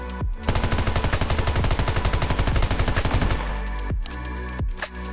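Rapid automatic fire from a FAMAS rifle in PUBG during a bullet spread test: a dense, steady burst of close, loud shots for about three seconds, followed by a ringing tail and a couple of faint clicks.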